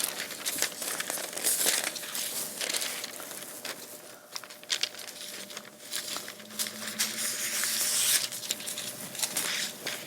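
Foil sheet for crafting being crinkled and handled on parchment, a steady close rustling crackle running throughout with brief louder crinkles.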